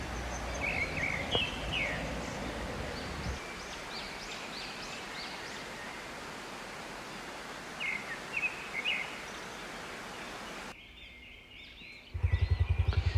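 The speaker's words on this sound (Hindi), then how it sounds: "आप सुनें पानी को भी और चिड़ियों की चहचहाट को भी" Scattered bird chirps ring out over a steady rushing wash of canal water in Islamabad, with a few brief louder bursts near the end.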